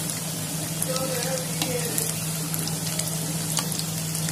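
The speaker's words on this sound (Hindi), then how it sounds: "ब्रेड रोल हमारे जल्दी से फ्राई हो जाते हैं, देखिए कैसे गोल्डन फ्राई हो रहा है।" Chicken cheese bread rolls deep fry in hot oil with a steady, close sizzle and a constant crackling hiss, with no voices over it.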